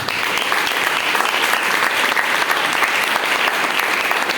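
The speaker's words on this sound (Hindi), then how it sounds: "ये बात पे जोरदार ताली होनी चाहिए।" Loud clapping from a church congregation, a dense, continuous burst of many hands that stays strong and even throughout.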